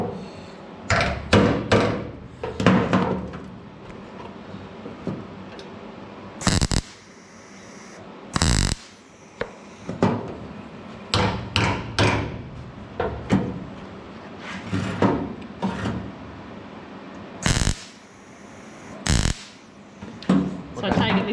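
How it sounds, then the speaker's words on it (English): Hammering on rusty steel guards of a Hateley Motorsport F600 race truck, with repeated bursts of sharp metallic blows in irregular clusters, loud and close, separated by short pauses. "panel beating takes time"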